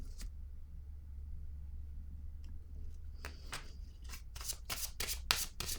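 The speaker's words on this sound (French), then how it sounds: "Je vais déposer une carte ici sur l'éveil." A tarot card laid down on a table during a reading: faint quiet room hum, then a flurry of rapid papery slaps and shuffling swishes toward the end, close and crisp, no voices.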